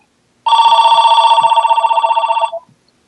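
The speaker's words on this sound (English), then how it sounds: "it's my other phone." A telephone rings loudly and close by during a round-table discussion, one sustained trilling ring of about two seconds that breaks off abruptly, with silence around it.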